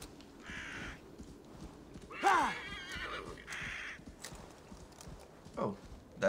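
A raven in the Assassin's Creed Valhalla game gives a few harsh caws in short bursts, over a background of horse hoofbeats and an occasional whinny.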